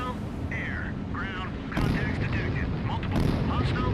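Explosions from strikes on anti-ship missile sites in the naval combat game Sea Power, a steady series of rumbling booms and blasts over continuous low noise, with some speech-like tones mixed in.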